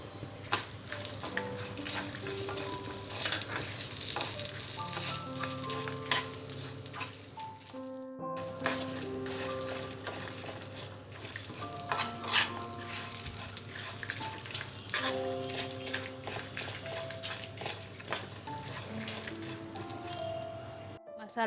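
Masala with sliced onion and curry leaves fries in a pan for a stuffed brinjal curry, a steady close sizzle with occasional stirring scrapes over background music.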